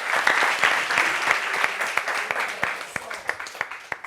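Studio audience applause at the close of a French televised discussion on workplace sexual harassment, a dense steady clatter of many hands lasting several seconds, with a few sharper individual claps standing out toward the end.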